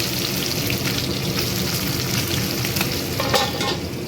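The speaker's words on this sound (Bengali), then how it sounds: "এই যে মাছ ভাজা হচ্ছে" Fish frying in a pan in a home kitchen, giving a steady, close, continuous oily sizzle with faint crackles and no talking.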